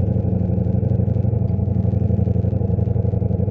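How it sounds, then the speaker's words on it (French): A 2023 Ducati Diavel V4 motorcycle idles steadily nearby on two cylinders, a low, even pulsing rumble with a light mechanical clatter on top. "tester justement le ralenti de cette moto parce que je veux la voir tourner sur 2 cylindres"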